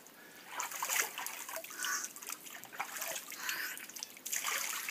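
Stream water trickling and splashing outdoors as someone washes their face in it, close, uneven watery splashes rising and falling, heard alone without talk.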